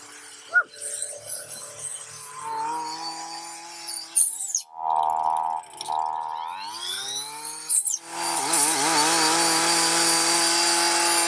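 A power saw with a moving blade cuts through bamboo, revving and whining in bursts that shift pitch, then settling into a sustained loud cut toward the end.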